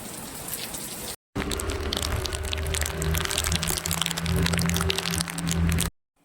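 Heavy rain pours down steadily, a dense hiss with scattered drops cracking on a surface, briefly cut off near the start.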